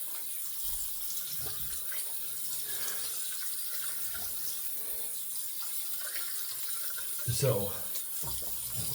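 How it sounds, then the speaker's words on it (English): A bathroom tap runs steadily to rinse off after a shave with a Lockhart's X Proof razor and sandalwood cream. The water flow is soft and continuous, with a brief louder splash near the end and a few quiet spoken words. "All right, we'll rinse."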